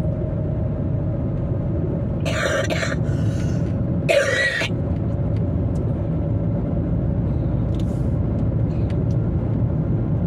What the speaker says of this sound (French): J'ai un truc de coincé dans la gorge, quelle horreur.